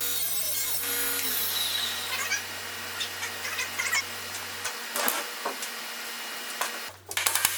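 A wooden backer board for a headboard is cut with a power tool, a steady buzzing whine with scraping and knocks as the piece is handled, the motor stopping and restarting near the end.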